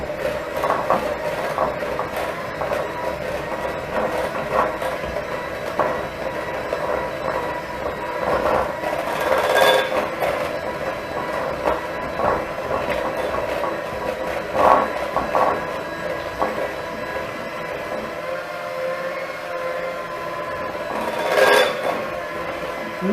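An electric mixer whirs continuously while beating funfetti cake batter in a home kitchen, a dense steady drone with occasional louder surges as the beaters knock the bowl.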